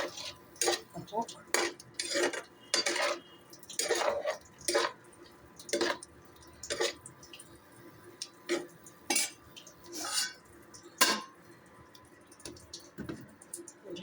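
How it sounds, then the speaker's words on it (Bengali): Ground spices with a splash of water are stir-fried in a pan, a spatula scraping and clinking against the metal in repeated irregular strokes, close and fairly loud. "এ দেখো মশলাটা আমার কষছে, কষাচ্ছি"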